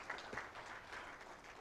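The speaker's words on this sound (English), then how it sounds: "Another big, big thunderous clap to the presenters." An audience at a national healthcare quality improvement conference gives the presenters a round of applause, a soft, fairly faint patter of clapping that holds steady for a moment.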